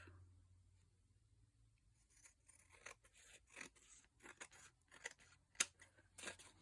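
Scissors cutting paper while making a junk journal, a series of quiet, close snips and rustles that begin after a near-silent stretch and build into irregular crisp cuts.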